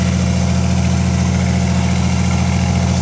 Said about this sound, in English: V6 Chevy. Running on natural gas.